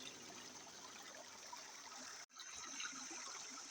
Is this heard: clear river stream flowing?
yes